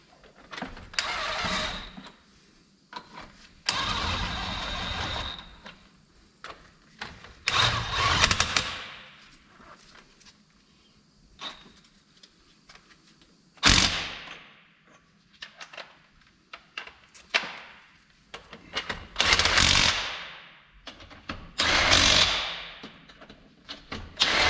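Wheel lug nuts being tightened on a Yukon Denali after new wheels and tires were fitted: a series of loud, separate mechanical bursts, each a second or two long, with quiet gaps between them.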